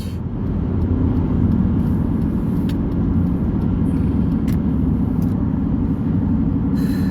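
A car on the open road accelerating past a line of other vehicles, a steady loud engine and road drone filling the whole stretch without pause, with no one talking.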